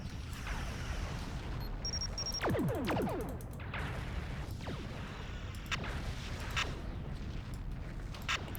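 Video game space battle explosions from Star Trek Legacy go off as deep rumbling booms under swooping laser-like whooshes and sharp bursts, all continuous and moderately loud.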